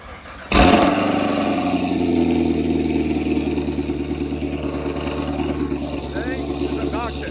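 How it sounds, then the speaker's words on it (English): A Nissan Z engine cold-starts at a street grudge race, catching abruptly with a loud burst, then settling into a steady, rumbling high idle close by while people talk nearby. "You get to watch the cold start on the Z."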